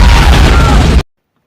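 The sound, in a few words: explosion in a war action film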